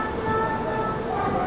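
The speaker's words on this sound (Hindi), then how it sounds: "यहाँ पर ये गई सिया राजधानी एक्सप्रेस अपनी" Siya Rajdhani Express, an Indian Railways train, rushing past close by with a steady loud rumble and a sustained tonal hum throughout.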